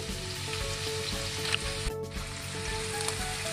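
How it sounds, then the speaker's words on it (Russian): Steady sizzling of onion frying in hot oil in a pan, a continuous crackling hiss with a few small pops and a brief stir. "Лучок наш обжаривается"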